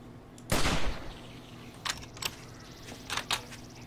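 Gunshots in 7 Days to Die in a desert village, one loud close blast followed by several shorter, sharper cracks spaced irregularly afterward.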